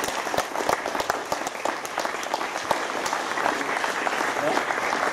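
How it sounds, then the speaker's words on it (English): An audience at a university history lecture applauds, a broad steady wash of many clapping hands with a few crisp claps on top, moderately loud and sustained throughout. "Let's give another round of applause"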